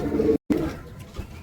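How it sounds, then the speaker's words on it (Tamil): A jet-black racing pigeon coos close by in low, throaty murmurs. A brief dropout of silence cuts in early, then the soft cooing resumes. "ஸோ இது பார்த்திங்கன்னா ஒரு அட்டைக்கருப்பு புறா."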